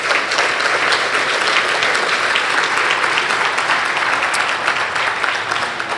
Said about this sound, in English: just give another round of applause for these sponsors